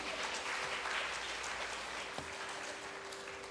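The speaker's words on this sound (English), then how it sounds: "Please give him a big round of applause." Audience applause at a Carnatic music event, a soft, even wash of many hands clapping from some distance in a hall, steady throughout with a faint constant hum beneath.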